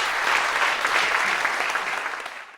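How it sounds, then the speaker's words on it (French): Crowd applauding loudly and continuously, a dense roar of many hands clapping close by, tapering slightly toward the end. "Donc, encore une fois, applaudissons fort."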